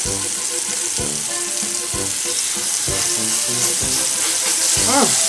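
Pljeskavica burger patties fry loudly in a big pan, a constant close sizzle with regular pulsing crackles about once a second, joined near the end by a brief rising tonal sound.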